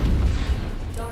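Enemy mechs opening fire in modded MechWarrior 5: Mercenaries: heavy, booming weapon fire rumbles loudly and continuously through a short burst, with no break.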